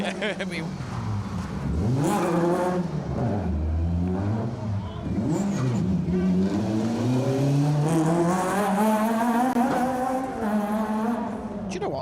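A Subaru Impreza rally car on an asphalt stage roars past close by, engine rising and falling in pitch through gear changes and revving hard, loud and sustained throughout with a commentator's voice partly over it.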